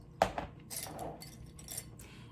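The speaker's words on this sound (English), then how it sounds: "and then I'm going to take my fabric clips" Plastic fabric clips are picked up and handled at a sewing table, with one sharp, close click followed by soft, quiet rustling and light taps.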